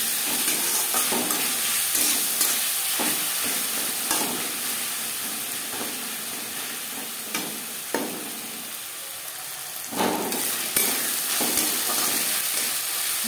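Ginger and green chilli paste stirred in a hot pan for sabudana khichuri, a steady sizzle with repeated scraping strokes of a spoon, close and alone.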